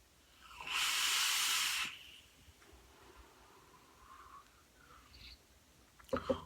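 Pineapple coconut e-liquid vapour is drawn through a vape with a steady breathy hiss lasting about a second, followed by quieter soft exhaling air and a brief rustle near the end.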